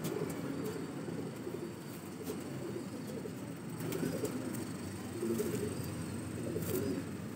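A young pigeon with five flight feathers grown coos softly and repeatedly, close by, against a steady background hum with faint chirps.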